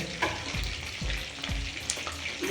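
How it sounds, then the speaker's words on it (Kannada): Coriander and mint leaves frying in a pan for chutney, a steady close sizzle with a few stirring scrapes and low thumps from the spoon, no voices. "ಇದೆಲ್ಲ ಫ್ರೈ ಮಾಡಿಕೊಂಡು ಚಟ್ನಿ ಮಾಡ್ತಾರಂತೆ"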